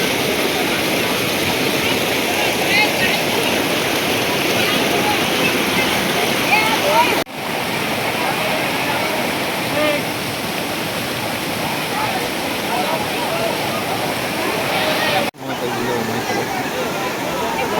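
Water rushing steadily in a stream near the hillside Khodiyar Mata temple at Bharoli, a loud, constant broadband roar that fills the whole stretch with only brief dips.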